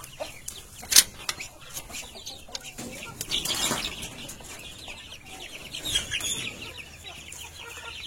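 Free-range village chickens from a broiler and kampung cross give faint, scattered clucks with a couple of sharper calls, set against quiet farmyard background.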